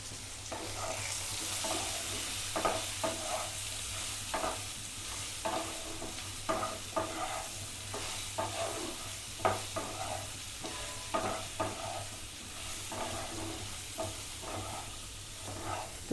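Bitter gourd and pumpkin curry, seasoned with a little chili powder, is stirred in a hot pan: a steady close sizzle broken by repeated scraping strokes of the spatula in an irregular rhythm, with no talking.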